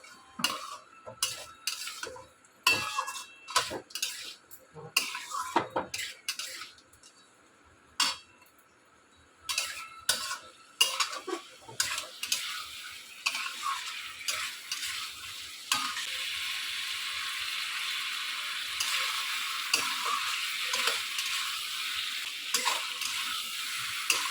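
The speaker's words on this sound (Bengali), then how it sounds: "পটলটা দিয়ে মশলাটা আবার একটু কষিয়ে নিলাম" Pointed gourd (potol) with potatoes is sautéed in spices in a pan. A spatula clinks and scrapes in irregular bursts, then a loud, continuous sizzle takes over. There is no talking.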